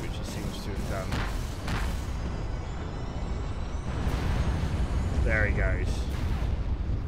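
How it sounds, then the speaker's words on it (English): A Galahorn's main weapon fires in the EVE space game, Minmatar faction, as a heavy rumbling blast over a dense, roaring battle bed, while someone speaks briefly. "It's a firing Galahorn. Very powerful blast."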